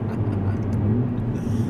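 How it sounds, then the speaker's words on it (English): A Mercedes-Benz A45 AMG hot hatch driven in Sport Plus with its exhaust valves open gives a steady, deep engine and exhaust rumble that holds even throughout, with no talking over it. "with the valves open, this car does not shut up"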